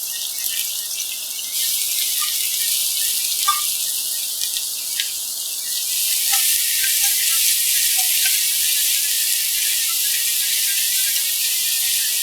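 Onions sizzle in a couple of spoons of hot oil in a pan, a steady bright hiss that swells louder partway through, with small pops and crackles scattered throughout and no talking.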